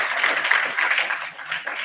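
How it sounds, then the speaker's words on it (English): Students in an institute auditorium at an immunology day event give a brief round of applause, a dense patter of many hands clapping at once. "So I expect a big round of applause from all you students."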